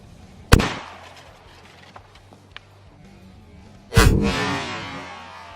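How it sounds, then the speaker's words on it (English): Two loud, sharp 12 gauge Remington Slugger shotgun blasts fired at cinder blocks outdoors, each with a long ringing decay, separated by about three seconds of quiet with a few faint small clicks between. "first shot here is with the 12 gauge Remington Sluggers."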